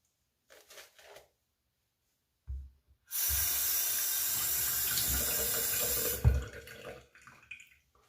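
A bathroom tap runs steadily for about three seconds during a wet shave, a loud continuous rush of water with a gurgle as it starts and stops, framed by a few quieter splashes and handling sounds.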